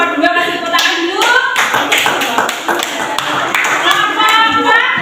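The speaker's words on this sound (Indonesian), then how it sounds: "Kasih tepuk tangan dulu" A primary-school classroom claps for a group of fourth graders, a quick patter of children's hands with excited young voices chattering and calling over it the whole time.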